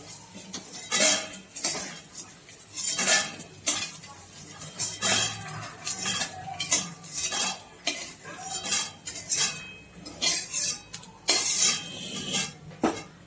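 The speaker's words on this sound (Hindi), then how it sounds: "अब देखिए इसको मैं अब बाहर निकालूंगी घी से।" Fried edible gum (gond) puffs are scooped out of hot ghee with a metal spoon, making repeated scraping and clinking against the pan in uneven bursts, with faint bubbling beneath.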